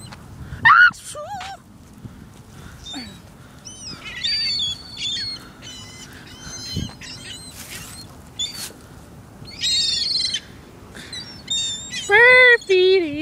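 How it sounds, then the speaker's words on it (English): Birds crowd in to eat bread thrown to them, giving sharp chirps, tweets and squawks in bursts close by while people talk over the racket. "Oh my gosh, these birds are serious."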